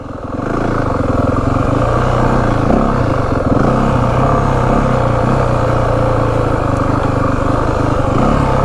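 A 2025 Yamaha WR450F dirt bike ridden in first gear over rough terrain, its engine droning loud and steady throughout with rattling clatter from the chassis and suspension.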